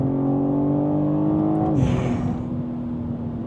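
A 2023 BMW M3 Competition (G80) accelerating hard in sport mode, its engine note climbing steadily in pitch, then a quick upshift and the revs rising again, loud and close inside the cabin, with no talking.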